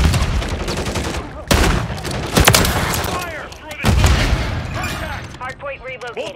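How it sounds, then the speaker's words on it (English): In Call of Duty Modern Warfare III, a flash grenade pops amid rapid, close gunfire and booming shots, with sharp transients spaced through the clip while game voices and radio chatter run underneath. "Throwing flash grenade!"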